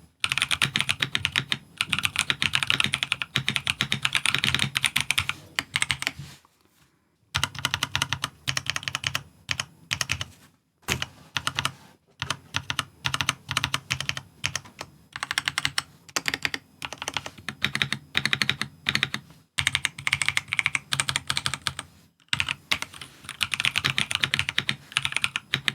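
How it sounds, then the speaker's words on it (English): Close, steady typing on an Attack Shark K86 wireless hot-swappable mechanical keyboard with linear switches, a rapid clatter of keystrokes with a few brief pauses. "I'll go ahead and do a typing test."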